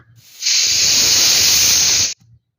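A small pressure cooker on a medium gas flame lets out one loud, close whistle of escaping steam, a steady high hiss lasting under two seconds that cuts off abruptly, with no talking.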